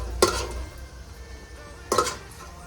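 Chicken donne biryani masala is stirred and fried on a high flame in a pot, with two sharp spoon scrapes about two seconds apart over a low background hiss.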